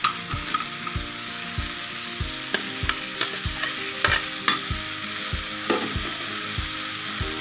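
Potatoes frying in hot oil in a pan for bitter gourd (bhat kerela), stirred with a spatula: steady sizzle under a regular series of scraping, clinking stirs, close and fairly loud.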